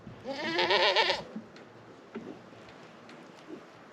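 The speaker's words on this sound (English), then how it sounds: "Baby goats are always a little bit of fun to watch." Baby goats on a homestead, a single loud wavering bleat up close lasting about a second, followed by faint scattered bleats and rustling in the background.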